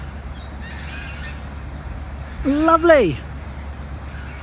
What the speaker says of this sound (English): Very noisy geese off to the side as well.